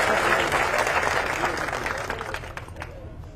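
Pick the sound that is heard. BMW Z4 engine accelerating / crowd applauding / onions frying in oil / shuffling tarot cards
crowd applauding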